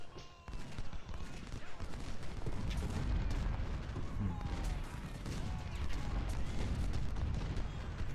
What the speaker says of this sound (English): There's those cannons up here pounding me.